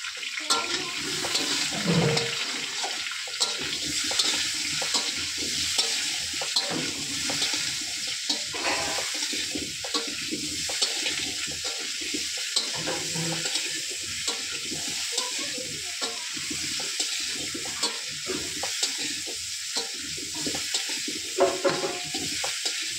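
Potato pieces fry in a pan with salt and turmeric, giving a steady sizzling hiss with small crackles throughout, close and continuous, with no talk.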